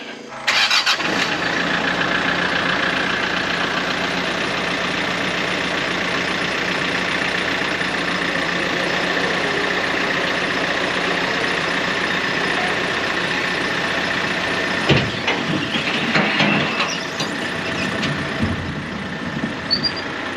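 A tractor engine cranks and catches, then settles into a steady, loud diesel idle outdoors on a Missouri Ozarks farm, with a brief rise in revs near the end.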